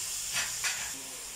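Liquid sprinkled over liver and sausage already sizzling in a pan, giving two brief hissing bursts of steam over a steady, quiet background sizzle.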